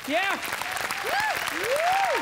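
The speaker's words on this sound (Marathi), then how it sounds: "एकदा जोरदार टाळ्या" Studio audience of a Marathi comedy show applauding, a continuous close burst of clapping with voices talking over it.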